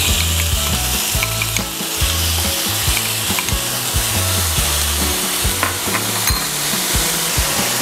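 Tuna fries in a pan with a steady, close sizzle, broken by repeated clacks and scrapes from stirring.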